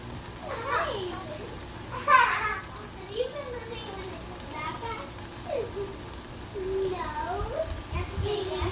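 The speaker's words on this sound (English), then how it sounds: "You can probably hear my kids playing in the background over there." Children play and chatter in the background of a home kitchen while Thanksgiving stuffed artichoke hearts are prepared, their voices rising in scattered bursts under an adult speaking nearby.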